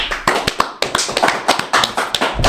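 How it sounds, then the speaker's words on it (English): Hands clapping in a quick, steady run of sharp, close claps, about a dozen in a few seconds, loud and alone without talk. "First of all, I want to clap for that."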